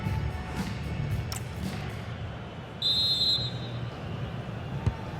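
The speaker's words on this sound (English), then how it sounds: "There's the whistle, and that's the first 45 minutes done at the Metropolitano." A referee blows a single sharp half-time whistle at the Metropolitano in an EA Sports FC 26 match between Atletico Madrid and Manchester City, a short, clear blast over a low crowd murmur.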